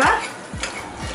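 Hot tempering (tadka) is poured into dal dhokli, making brief sizzles and stirring scrapes with a few soft metallic knocks of a spoon against the pot.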